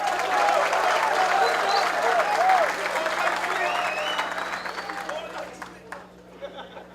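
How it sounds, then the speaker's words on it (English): An audience at a military gathering applauds women soldiers with a dense, loud burst of clapping. Scattered voices and whistles rise over it before it gradually fades toward the end. "Big round of applause to them."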